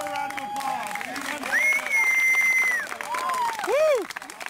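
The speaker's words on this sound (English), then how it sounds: "Give her a round of applause." A crowd at a sports event applauds and cheers for a woman, with loud, sustained clapping and shrill whistles rising over the noise.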